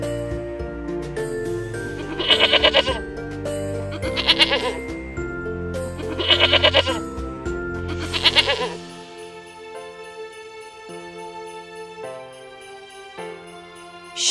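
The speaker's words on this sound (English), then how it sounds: "Sheep." Four loud, quavering bleats in a regular rhythm, clearly a sheep calling up close over a tonal musical background; the bleats stop after about eight seconds and only quieter music continues.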